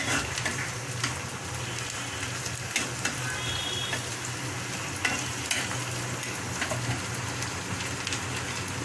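Homemade herbal hair oil sizzles and bubbles softly in a pan over very low heat as it is stirred, making a continuous gentle frying hiss with faint scraping and occasional taps of the utensil.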